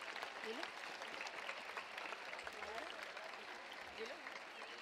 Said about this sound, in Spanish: Un fort aplaudiment per a elles.